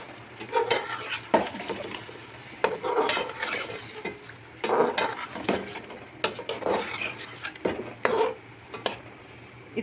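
Onion, garlic and ginger masala sizzles and fries in a pot while a spoon stirs and scrapes against the metal in irregular bursts, close and fairly loud.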